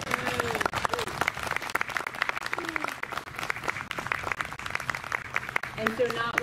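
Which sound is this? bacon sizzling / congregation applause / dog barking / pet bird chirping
congregation applause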